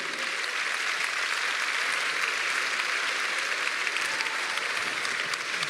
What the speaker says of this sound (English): So I would like you to give a round of applause to Gaylord Baudin Amrel from Sciences Po Lille.